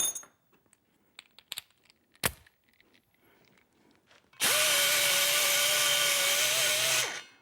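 A rotary grinder bit works a cylinder head during porting, whining loudly and steadily for about three seconds after some scattered taps and clinks of handling.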